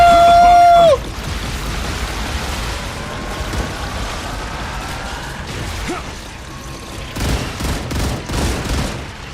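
Automated defense turrets in the sci-fi game Star Rupture open fire during a large enemy wave, a dense rattle of overlapping shots and blasts that swells in bursts toward the end after a brief sustained tone at the start.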